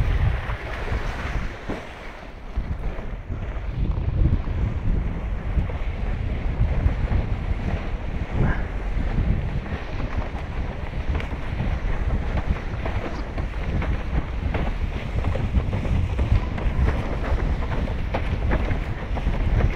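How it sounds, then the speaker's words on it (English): Strong wind buffets the microphone at Big Bay beach in Cape Town, a continuous low roaring rumble with gusty swells, mixed with the wash of surf, and no talking throughout. "Windier now."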